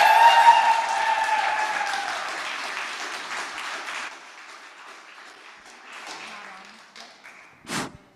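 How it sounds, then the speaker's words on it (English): An audience at a design school open event applauds loudly and steadily for about four seconds, then the clapping thins to scattered claps and fades, ending with a sharp clatter. "A round of applause."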